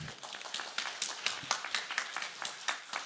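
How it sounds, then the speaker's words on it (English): Scattered clapping from a small audience at a panel session of an ESG forum, a sparse run of individual claps lasting a few seconds, moderately near with no talk over it. "you can clap, it's okay"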